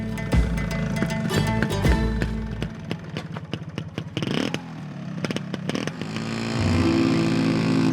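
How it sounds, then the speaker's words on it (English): Motorcycle riding off-road along rough tracks while searching for surf waves in the Dominican Republic, its engine revving and clattering loudly and continuously, with scraping and rattling bursts throughout. "So looking for surf waves by motorcycle is a pretty amazing experience."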